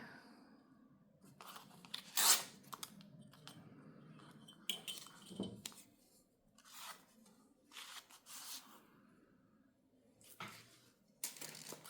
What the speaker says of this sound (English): Let me rip that off so it's a little straighter.